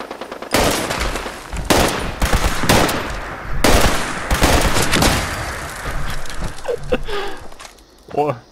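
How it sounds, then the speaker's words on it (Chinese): Repeated bursts of gunfire from a .50 caliber gun in the video game Fallout 76, loud rattling volleys that come and go across the clip, with brief breathy vocal sounds near the end. "原来这个枪声是自己人的"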